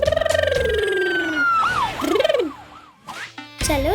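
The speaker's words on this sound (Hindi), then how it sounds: "एम्बुलेंस।" An ambulance siren wails in loud, sweeping tones that rise and fall, close by and mostly alone, with a brief break near the end before the siren returns.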